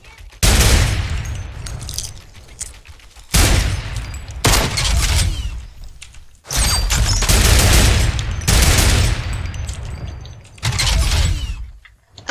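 Turret gunfire in the video game Fortnite: loud sustained bursts of rapid automatic fire, several separate volleys of one to two seconds each with brief quiet gaps between them.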